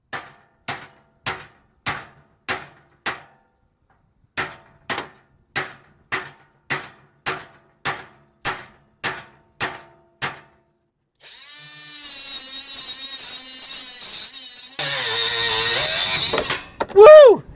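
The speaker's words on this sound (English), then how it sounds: "I need a hammer." A series of sharp metallic hammer blows on the exhaust pipe of a 1998 Ford Ranger during a cat-back exhaust install, in quick, even bursts, followed by a loud hissing rush and high squealing noise.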